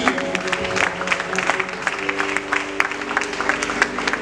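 A church congregation clapping at an evening gathering, dense continuous applause from many hands, fairly close and loud, with a faint murmur of voices in the crowd.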